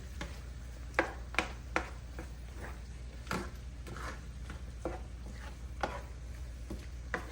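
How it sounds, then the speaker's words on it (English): Pepper being stirred around in hot oil in a cooking pot for Jamaican-style seasoned callaloo rice, with faint, irregular utensil taps and light ticks against the pot over a low steady hum, no voices. "I just put it in the oil for flavor. So you just want to mix it around."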